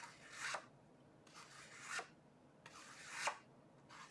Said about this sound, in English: You can just sand those little edges down.